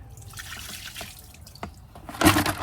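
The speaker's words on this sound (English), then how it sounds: "And just dump the water out." Water dumped out of the tank of a Pacvac Glide 300 vacuum cleaner, close-up dripping and trickling that swells into a louder splashing pour toward the end.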